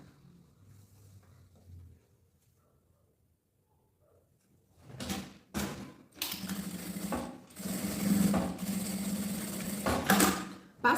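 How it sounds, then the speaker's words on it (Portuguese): A sewing machine stitches a safety seam through bag fabric and zipper, running in several short bursts then a steady whir, loud and close, after a quiet start. "aqui, ó, eu passo uma costura de segurança"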